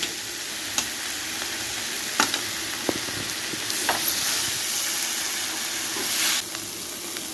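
Grated radish and coconut stir-fry in a hot pan, a steady, close sizzle and hiss with a few sharp clicks and scrapes of the spoon against the metal.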